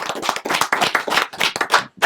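Studio audience on a French hip-hop and R&B debate show breaks into applause, a lively, close patter of many clapping hands that thins out briefly near the end.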